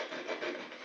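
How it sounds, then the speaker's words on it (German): Wood being sawed outdoors with a small pocket knife saw, one short rasping stroke, close and fairly quiet, alone with no talk. "Und schon sägen wir jetzt mal ganz kribbig drauf los."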